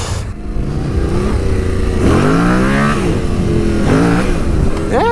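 A nearby motorcycle engine revs up and down repeatedly, loud and continuous, its pitch rising and falling with each throttle blip.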